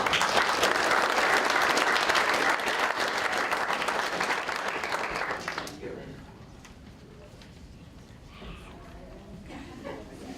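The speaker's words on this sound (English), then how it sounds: "Another round of applause, please" An audience at a school board of trustees public hearing gives a dense, loud round of applause that holds for about five seconds, then drops away abruptly to quiet room murmur.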